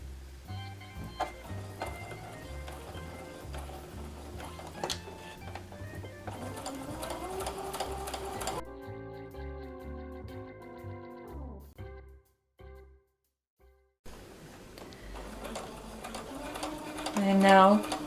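A sewing machine stitches along the sides of a tote bag pocket made of main and lining fabric, its steady mechanical whir running in bursts with pauses and a brief near-silent gap, while a person talks over it.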